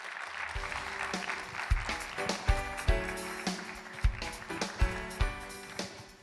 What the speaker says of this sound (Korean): 오늘 이 자리에서 모시고 축사를 드릴 텐데 여기까지 와주신 장관님께 정말 큰 박수로 맞이해 주셨으면 좋겠습니다